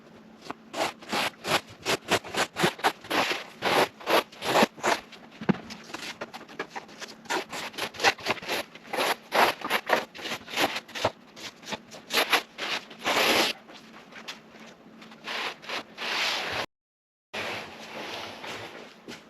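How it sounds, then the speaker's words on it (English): Old foam and fabric being stripped from a car headliner, heard as a long run of close, dense scraping and rubbing strokes in quick rhythm, with a short silent gap near the end. "The hardest part about this job, and it just takes time, is stripping the old headliner off."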